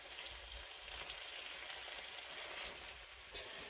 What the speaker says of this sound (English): Alrighty, so we're back to frying it.